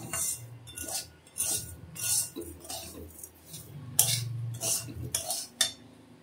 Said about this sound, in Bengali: চিনি দিয়ে আর একটু ভালো করে নেড়ে দেব।